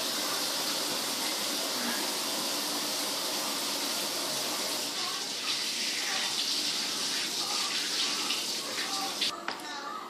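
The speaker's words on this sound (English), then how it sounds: "now that you have your eggs, you're going to want to wash your hands." Steady broadband rush of running tap water at close range, as from hands being washed under a faucet while preparing eggs for a home cooking recipe, continuing unbroken for the full stretch with slight shifts in flow near the end.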